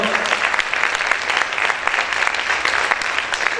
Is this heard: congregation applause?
yes